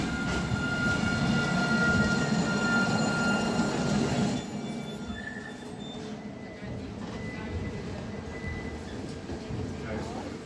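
A train pulls into Nottingham station, hauled by a unit with its pantograph raised: steady loud rumble and rolling rail noise that drops away after about four seconds, with a faint squeal and continuing station ambience under a voice.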